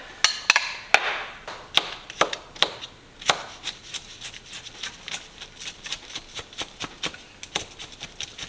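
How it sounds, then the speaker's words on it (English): A knife minces garlic on a cutting board for duck soup: a steady run of sharp, close chopping taps, roughly two or three per second, each crisp and distinct, with no one talking. "I've got some garlic in here that I'm going to mince up."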